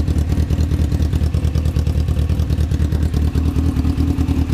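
A Honda Fireblade motorcycle engine, freshly restarted after a long layup and suffering overheating issues, runs steadily in a garage with a loud, even idle and a rapid mechanical clatter throughout.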